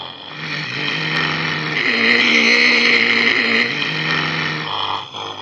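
Synthesized car engine in a Wwise game audio project, its pitch and intensity driven by a speed parameter; a steady, loud harmonic drone rises slightly and holds before dipping near the end, with no talk.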